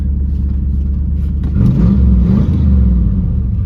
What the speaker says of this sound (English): Heh, belt squeal.